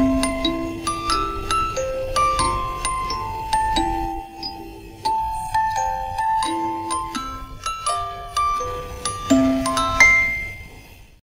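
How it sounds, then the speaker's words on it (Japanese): A bright electronic chime melody, the original Tokaido Shinkansen train chime Tetsudo Shoka, plays a sequence of bell-like notes, each decaying quickly, in a cheerful tune lasting several seconds. "今流れたのは初代東海道新幹線のチャイム、鉄道唱歌である。"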